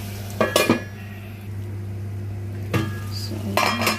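A lid is set onto a cooking pot while pork bulgogi fries, giving a few short metallic clatters near the start, another at mid-clip and a final pair, over a steady low kitchen hum and soft sizzle.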